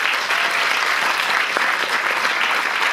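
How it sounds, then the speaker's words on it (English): Steady, full applause from an audience at a mental health support event, dense clapping filling the room continuously with no pauses. "So a round of applause for you guys."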